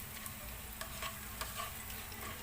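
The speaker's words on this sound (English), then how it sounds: "our onion is cooking." Onion browning in a pan during vegetable biryani prep, with a steady low sizzle and occasional scraping stirs of a utensil, close and continuous with no talking.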